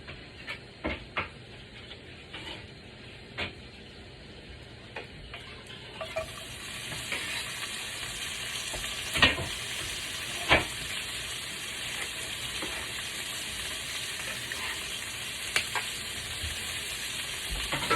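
Food sizzles and crackles steadily in a hot pan, with occasional sharp pops and scraping stirs, close by and continuous.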